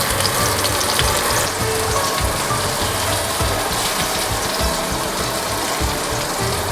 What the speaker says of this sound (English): I can start frying the fish